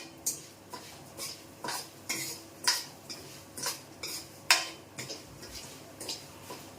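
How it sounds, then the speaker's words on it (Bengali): Rice and lentils frying in ghee for Gujarati-style khichdi, stirred with a utensil that scrapes and clinks against the pan in steady, evenly spaced strokes, close and with no voices. "এরকম ঘি থাকবে, চাল আর ডালটা খুব যেন সুন্দর করে ভাজা হয়"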